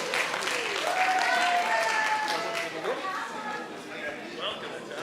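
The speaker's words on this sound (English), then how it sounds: "Big round of applause." Audience at a Kingston town meeting breaks into applause, a dense wash of clapping with voices talking over it, gradually easing off toward the end.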